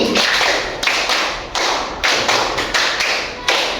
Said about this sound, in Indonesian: Kita berikan tepuk 5 2 kali.